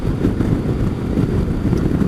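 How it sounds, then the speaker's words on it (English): Strong, gusty wind buffets a motorcycle rider, a steady low roar filling the sound with no break and no voice. "It's blustery at the moment"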